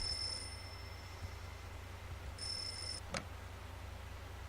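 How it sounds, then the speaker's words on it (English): A telephone in the horror video game Mermaid Swamp gives two short bright electronic rings about two seconds apart, then a sharp click, over a faint low hum. "Well, that's the phone."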